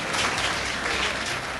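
Audience applause at an award ceremony for footballer of the year 1997, a steady dense wash of clapping throughout, loud and close, with no pauses.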